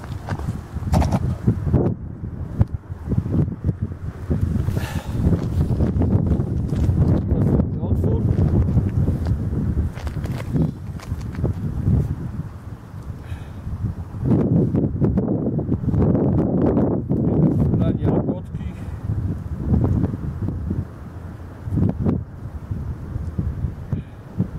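Steady wind buffets the microphone out on a frozen lake during ice fishing for perch, a continuous low roar with gusty surges throughout, while someone talks over it.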